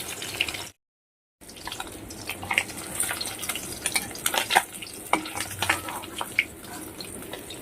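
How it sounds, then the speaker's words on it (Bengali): Rohu fish heads fry in a pan, giving a crackling, spattering sizzle close by, broken by sharp pops and occasional scraping knocks, with a brief full silence near the start. "মুড়ো দুটো আছে সেই দুটোকে ভেজে নিচ্ছি"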